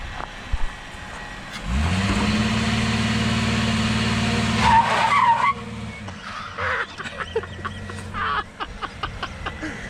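A car engine revs with a steady drone while tires squeal briefly in a neutral drop with the handbrake on, followed by crunching and rattling as the vehicle moves on.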